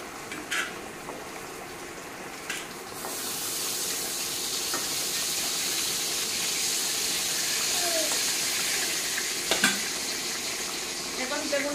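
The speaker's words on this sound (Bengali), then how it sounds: "বেগুনটা ভেজে নিই।" Eggplant fries in a pan with a loud, continuous hissing sizzle that swells after the first few seconds, punctuated by a few sharp utensil knocks.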